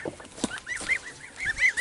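White-crested geese give a quick run of nasal honks, close and fairly loud, several birds calling over one another in short overlapping bursts.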